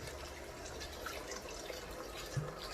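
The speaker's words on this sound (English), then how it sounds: "We are now pouring in some vintage cooking wine" White vintage cooking wine pours steadily into a risotto pan over a burner, a soft, continuous trickling splash with no voices.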